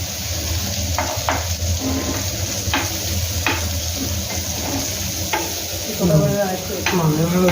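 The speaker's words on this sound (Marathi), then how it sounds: "हे असं फ्राय होतं आहे." Pieces of fish or meat frying in oil in a pan for a Malvani recipe sizzle steadily and close up, with repeated short scraping stirs and turns punctuating the hiss.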